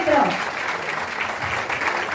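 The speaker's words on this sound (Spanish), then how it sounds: "¡Lo recibimos con un fuerte aplauso!" An audience at a church talent show applauds and cheers for a performer taking the stage. The clapping is continuous, with an announcer's voice talking over it.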